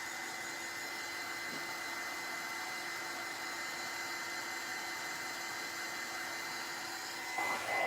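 A heat gun blows a steady, whooshing electric drone while it dries rust paste on an old camera, holding even throughout with a slight bump near the end.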